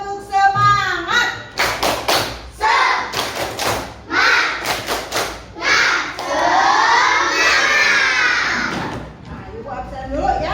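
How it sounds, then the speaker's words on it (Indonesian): Indonesian schoolchildren in a classroom clap in quick rhythmic bursts, chanting and shouting along in unison, ending with a long, excited group cheer. "Kasih dulu semangat, tepuk semangat dulu ya."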